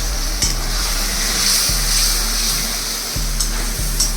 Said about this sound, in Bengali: আমি আরেকটু জল দেব মশলাটাকে ভালো মতো কষে নেওয়ার জন্য